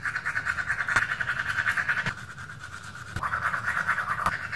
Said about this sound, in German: Also ich putze jetzt zuerst mit so einer normalen Zahnbürste.